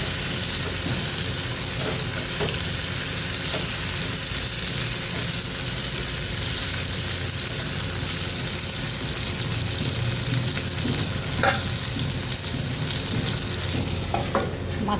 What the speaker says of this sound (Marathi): वांगी तेलावर 2 मिनटं छान परतून घेऊया.